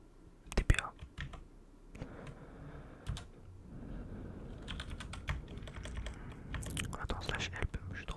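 Computer keyboard typed on up close for Minecraft commands, soft clattering keystrokes in quick bursts with pauses, under faint whispering, quiet overall.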